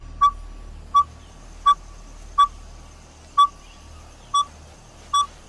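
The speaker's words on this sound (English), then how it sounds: "Dijoles hunt in daylight packs using high-pitched whistles to guide hunts and maintain pack." A dhole pack gives high-pitched hunting whistles: seven short, clear, pure-toned calls at an even, steady pace, each alone over a faint low hum.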